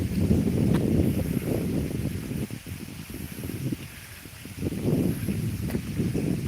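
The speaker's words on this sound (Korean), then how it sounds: "오늘 바람 많이 붑니다" Strong wind roars outdoors on a forest hillside, buffeting the microphone in heavy rumbling gusts that swell and ease over several seconds, steady and loud with no talking.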